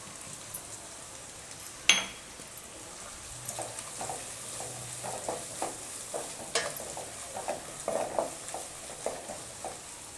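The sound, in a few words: green chillies being sautéed and stirred in pan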